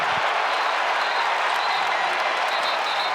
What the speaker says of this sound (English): That's that play that gets the crowd going.